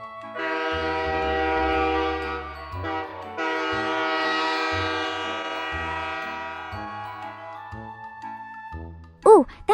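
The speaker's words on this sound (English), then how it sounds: "Next up, the rumbling diesel train." A diesel train sounds a loud, sustained multi-tone horn in several long blasts, with the engine rumbling low beneath and a short sharp chime at the very end.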